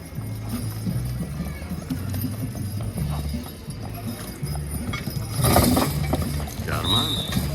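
Horse hooves clip-clopping at a lightweight horse pull at the Allegany County Fair, a steady rhythmic clatter under an announcer's voice and crowd noise, swelling briefly near the end.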